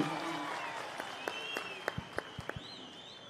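Audience clapping for a child's speech at a Janmabhoomi Day event: a light, fairly distant spatter of claps building into several sharper individual claps near the end.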